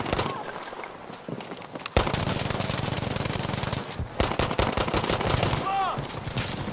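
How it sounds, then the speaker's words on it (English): Battlefield V video game gunfire, rapid machine-gun bursts and single shots firing loud and close in sustained volleys, with voices talking over the shooting. "Dude, they're shooting at Tim."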